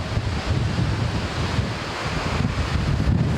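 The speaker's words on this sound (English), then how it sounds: "Oh, wind." Strong gale-force wind on a sandy disc golf course at Cutter Park, Norfolk, buffets the microphone with a loud, continuous rumbling roar that surges and dips over a few seconds, with no talking.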